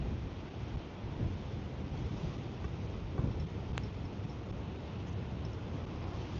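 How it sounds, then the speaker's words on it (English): Strong wind buffets an outdoor microphone beside a pond during a carp and bass fishing trip, a constant loud rumbling roar with no other sounds breaking through. "Oh, this wind is rough."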